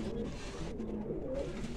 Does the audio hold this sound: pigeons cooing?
yes